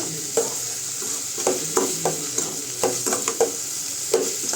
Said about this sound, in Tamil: சோம்பு போட்டு நல்லா ஆனியன் வதக்கிடுங்க